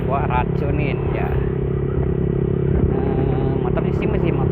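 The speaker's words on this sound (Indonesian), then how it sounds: "Motor ini sih masih motor standar ya" A standard motorbike carrying a rider and passenger drones steadily at cruising speed, its engine hum constant and close throughout, with faint voices mixed in.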